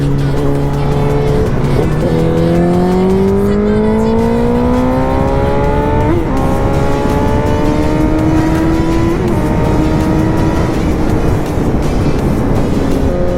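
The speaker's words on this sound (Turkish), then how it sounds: "Egzoz sesi nasıl dostlarım?" A 1000cc motorcycle's exhaust roars loud and close throughout while riding winding roads, its engine pitch rising in repeated climbs as it accelerates through gears, with no talking.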